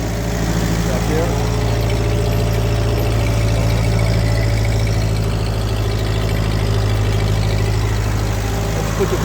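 A 1948 Ford 8N tractor engine runs steadily and loud, a close, continuous low idle-like throb with even vibration throughout.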